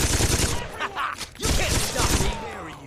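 Rapid gunfire in the Saints Row 2 video game, dense bursts of shots with a brief lull midway before firing resumes, loud and close and gradually fading toward the end.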